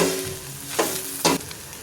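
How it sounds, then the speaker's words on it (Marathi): Flattened rice poha with fresh coriander is stirred and tossed in a hot pan, giving two short scraping sweeps over a soft sizzle within a couple of seconds. "आपण वरखाली हलवून घेऊयात पोहे."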